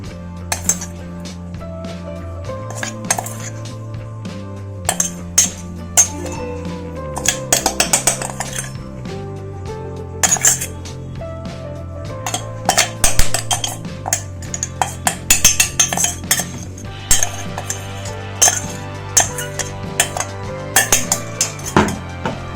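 A spoon clinks and taps against a bowl while homemade Hyderabadi biryani masala powder is transferred, with scattered sharp metallic ticks and clatter over a sustained hum, close and fairly loud.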